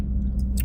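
Crunchy fried fish and shrimp chewed up close, a brief run of moist, crackling bites alone with no talk.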